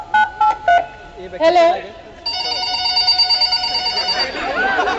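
Several telephone keypad tones beep as a phone number is dialed, then a steady electronic ring sounds repeatedly, with a person speaking briefly in Hindi between.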